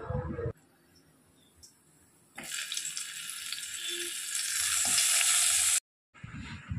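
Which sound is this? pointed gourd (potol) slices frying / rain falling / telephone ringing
pointed gourd (potol) slices frying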